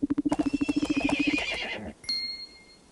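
A horse in the Barbie Dreamhouse stables video game gives a loud, quavering neigh with rapid pulsing at the start. A short chime follows, and there is no talking.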